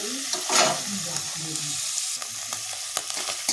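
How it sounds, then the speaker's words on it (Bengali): Prawns fry in oil with a dense, close sizzle and crackle, broken by intermittent stirring sounds and small spatters. "মাছগুলো ভেজে নেব"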